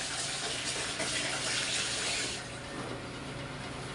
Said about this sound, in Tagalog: Sabon at saka tubig.